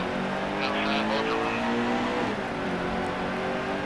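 Engines of a NASCAR Heat 2 race-car field rolling off at the start of a night race in Kansas, a thick layered drone of multiple cars swelling under talk, with faint tire squeal.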